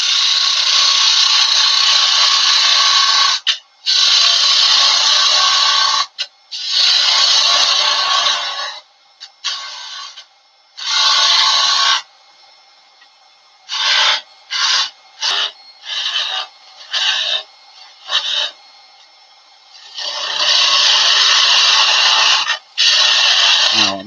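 A gouge or skew pares wood on a lathe while turning a ball-and-socket snowman's head, making loud, close rasping scrapes in long bursts, then shorter choppy cuts, and finally long passes again.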